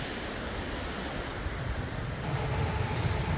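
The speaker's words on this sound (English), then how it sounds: "But boy, it's still pretty windy." Steady, rushing wind buffets the area in a constant broadband roar at Wreckhouse, Newfoundland, with gusts building slightly toward the end.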